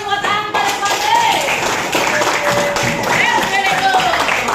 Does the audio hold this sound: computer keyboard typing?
no